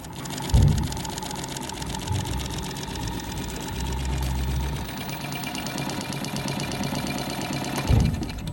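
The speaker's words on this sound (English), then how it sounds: "Now after doing that, you're going to want to sew it off." A Megasew flatlock sewing machine runs a flat chain-stitch seam with a steady, close, buzzing mechanical drone. Soft thumps come near the start and end, and no one speaks.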